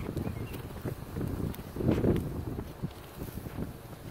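Gusty wind buffets the microphone outdoors on a Minnesota day, a soft, uneven rumble that swells and fades, loudest midway through.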